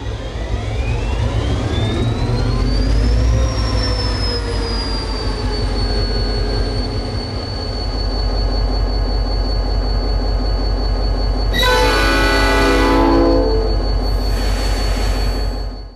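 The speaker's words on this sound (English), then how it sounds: "The sound file itself is an actual SDL39. And by actual, we mean it's a 645E3 prime mover." A model locomotive sound decoder playing an SDL39 with a 645E3 diesel prime mover, a loud rising engine whine that revs up and settles into a steady drone, then sharp bursts of horn or air-release near the end. No one speaks.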